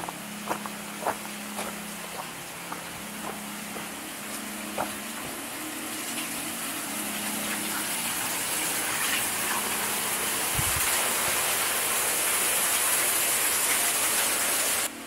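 A small river runs inside a cave in the Haut-Jura with a constant rushing, gushing wash of water that swells slightly louder, dotted with a few sharp drips and taps, and no talking.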